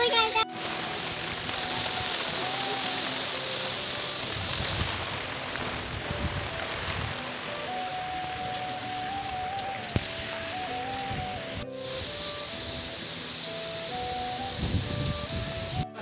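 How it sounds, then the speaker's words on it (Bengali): Heavy rain from Cyclone Remal pours down in a continuous broadband hiss, with a faint tonal hum running underneath and a brief louder burst partway through. "ঝড় ঝড় বৃষ্টি"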